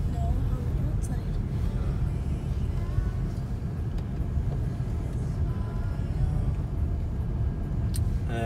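Tesla Model 3 Dual Motor driving at about 40 mph on a snowy California road, with a steady low tire and road rumble inside the cabin and someone talking over it.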